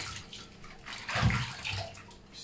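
Water from a tap runs into a bathtub while a small dog, a miniature pinscher, is rinsed. Close sloshing and splashing swells briefly in the middle, with no speech.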